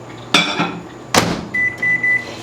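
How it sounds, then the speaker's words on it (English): A kitchen microwave oven is loaded and its door clunks shut, followed by a short run of high electronic beeps as it starts, all loud and close. "but put this in the microwave."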